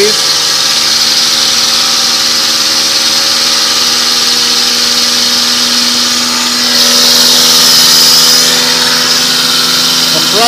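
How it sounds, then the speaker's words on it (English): A compressor in a low-temperature waste-heat electrical generation setup runs steadily and loudly nearby, a constant droning hum that swells briefly partway through. "Compressor"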